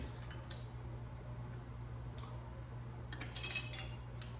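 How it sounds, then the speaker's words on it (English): Metal lids are screwed tight onto glass canning jars of homemade marinara, giving faint scattered ticks and scraping clinks at irregular moments over a steady low hum, quiet and close, with no talking. "So you just put your lids on there good and tight."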